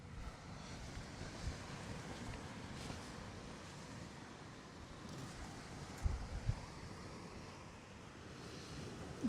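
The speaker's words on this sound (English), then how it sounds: "That wind's trying to lift the old shelter up." Strong wind gusting along a stormy seaside at Trimingham, a steady broad roar with buffeting low rumbles of microphone wind and a couple of sharper gusts, no talking.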